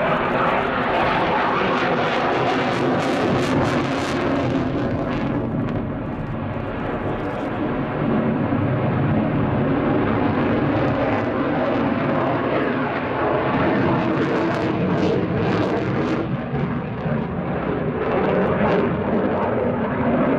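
A Belgian Air Component General Dynamics F-16AM Fighting Falcon flies a display, its jet engine producing a loud, continuous roaring rumble that swells and shifts as it passes, with a commentator talking underneath.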